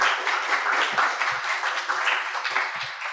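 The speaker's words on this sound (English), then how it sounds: "I think they deserve a round of applause" An audience at a cultural symposium panel in Weimar claps steadily, a dense wash of hand claps that holds even and fairly loud for the whole few seconds with no voices.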